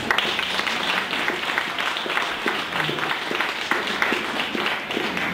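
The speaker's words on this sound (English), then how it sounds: "give another round of applause to Lori" An audience applauds a guest speaker at a professional talk, steady dense clapping from a moderate distance that fills the whole stretch without pause.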